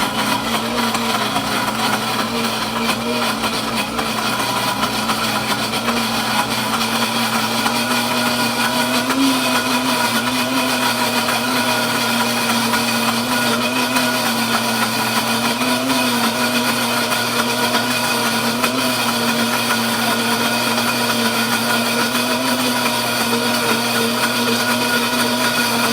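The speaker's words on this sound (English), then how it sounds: "Blend it a little bit more." A blender grinding peanuts into homemade peanut butter, a loud, steady motor whine with a constant buzzing drone that runs unbroken throughout.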